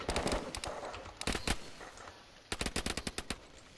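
Rapid bursts of automatic gunfire in a video game, loud and close, with a dense volley at the start, a pause, then another burst of sharp repeated shots.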